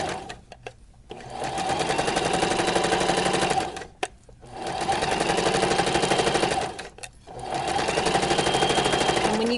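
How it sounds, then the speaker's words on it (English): A sewing machine stitches a fabric pocket in three long, steady runs of rapid whirring and clatter, close and loud, with brief pauses between them. "And of course you'll want to sew a little bit slower than this."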